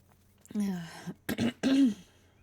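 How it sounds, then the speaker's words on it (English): A person clears their throat with a drawn-out, voiced rasp, then gives a couple of short, sharp coughs, close and fairly loud against a quiet background. "I've also been coughing a lot lately, so if I keep clearing my throat, I'm so sorry."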